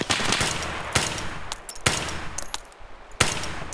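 Gunfire in the Escape From Tarkov video game: a run of sharp, loud shots with bursts in quick succession, some close together and some spaced apart, with no talk over them.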